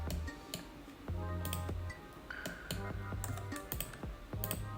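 Computer keyboard keys pressed in quick, uneven bursts of clicks and taps, with a shift key held while working in 3D clothing design software; close, fairly steady typing with no talk.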